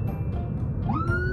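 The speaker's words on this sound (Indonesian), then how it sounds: "sampai-sampai doi membunyikan sirine kepada pengendara lain agar diberi jalan" A siren sounded by a motorist in Indonesian traffic, with a wailing tone that sweeps upward over a loud, steady rumble of road and engine noise.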